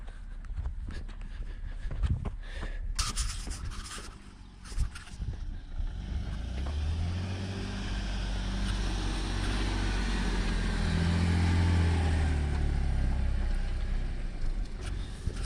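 A lifted Jeep with mud-caked tires climbs a dirt hill, its engine building into a loud, sustained low rumble with rising strain, wind buffeting and tire crunch throughout.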